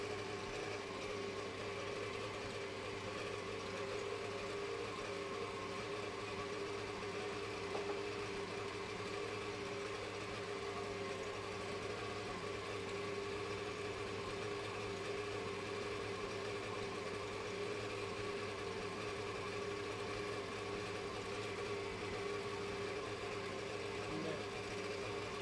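An electric mixer running steadily through Christmas cake batter with treacle, a continuous low motor hum and whir, constant and unchanging for the whole stretch.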